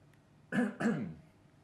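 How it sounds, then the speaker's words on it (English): Two quick, rough coughs in a row, close and fairly loud, against a quiet background. "Excuse me for my cough."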